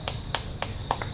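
Four sparse, separate hand claps at an open mic night at Schoolhouse Brewing, each a sharp near snap with gaps between them, over a low hum of room noise.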